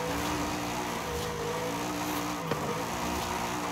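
A high-powered car engine drones and revs continuously in Forza Horizon 5, loud and close, with a steady harmonic tone and a brief spike partway through.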